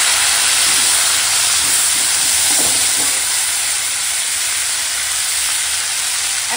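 Chopped Malabar spinach stems drop into hot oil with browned onions and set off a loud, continuous sizzling hiss that stays close and steady throughout, with no voices.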